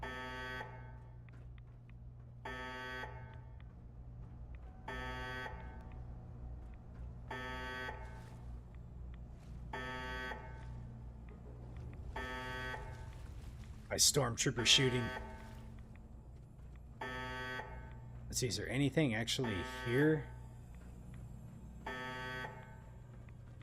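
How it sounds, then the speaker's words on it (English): Alarm in a laboratory in Fallout 4, a loud buzzing beep repeating about every two and a half seconds throughout, with someone talking and brief bursts of gunfire mixed in. "do I now just have to listen to that beeping sound the whole time?"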